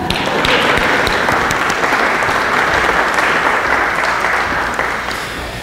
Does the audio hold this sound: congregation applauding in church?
yes